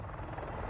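Helicopter in a Lara Croft action game, a brief loud, steady rotor thrum and engine drone filling the whole moment.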